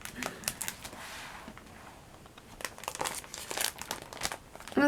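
Scissors snip and crinkle through a paper picture for an artist trading card, a run of close, crisp cuts and rustles with brief pauses.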